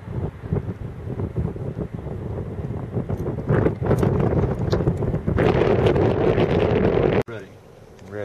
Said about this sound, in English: Wind blowing like mad.